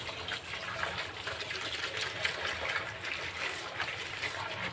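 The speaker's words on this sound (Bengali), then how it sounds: "তো ঠিক আছে শাকটা ভালোভাবে ধুয়ে নেই" Jute leaves are washed in water, producing a continuous close swishing and splashing that stays at a fairly even level throughout without pauses.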